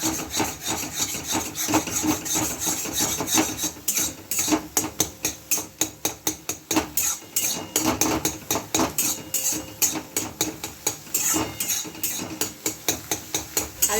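Potato and egg bhujia being mashed and stirred in a pan, a steady run of rhythmic scraping and clattering strokes from a utensil against the metal, close and fairly loud with no talking.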